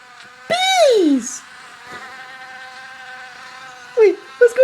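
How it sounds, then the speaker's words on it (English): Bees buzzing around a beehive in a comedic puppet sketch: a high, whining insect drone holds steady, with a loud, wavering buzz at the start and short bursts near the end. "Bees!"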